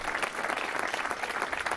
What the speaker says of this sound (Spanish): Y gran aplauso el que recibe Pepe Mosquera.